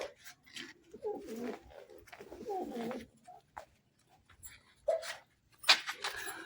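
Pigeons cooing nearby in several soft, throaty phrases with gaps of quiet between them, plus a few brief sharper calls, no talking.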